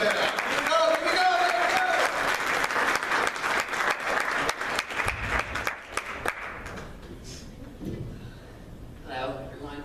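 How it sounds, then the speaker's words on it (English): Loud audience applause with cheering for a stand-up comedian taking the stage at a comedy contest, dense clapping for about six seconds before fading into scattered claps and crowd noise. "big round of applause for Erica Burns"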